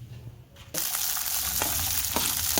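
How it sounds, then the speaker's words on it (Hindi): Peas fry in a pan, a close, loud, dense sizzle that bursts in after a brief quieter moment and then holds steady, with a few faint clicks from stirring. "देखिए मटर मैं फ्राई कर रही हूँ।"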